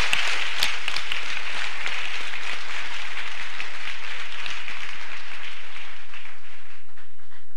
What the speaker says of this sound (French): Clap for Daniel.